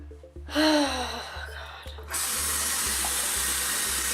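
A tap runs into a bathroom sink, starting with a sharp gasp and a few short vocal sounds, then settling into a steady, fairly loud rush of water that continues to the end.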